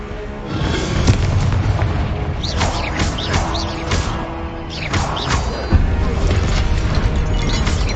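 Incendio fire spells are cast in a Hogwarts Legacy battle, with repeated loud booming bursts and whooshing flames in quick succession, close and dense over a rumbling game backdrop.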